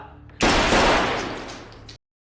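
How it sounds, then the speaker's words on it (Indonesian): Burst of gunfire in a film, rapid shots sprayed into a wall, loud and dense for about a second and a half after a quieter background, then cutting to silence. "Ditembak kenyo wae peluru tu ke tembok"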